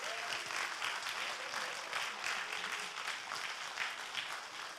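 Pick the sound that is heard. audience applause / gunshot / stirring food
audience applause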